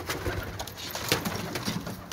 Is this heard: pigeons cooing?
yes